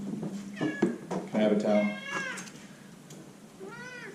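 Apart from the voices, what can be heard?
cat meowing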